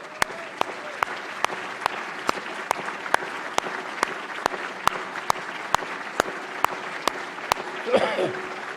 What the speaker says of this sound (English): We're going to give you another round of applause.